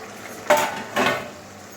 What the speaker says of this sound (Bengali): ঢাকনাটা খুলে নিচ্ছি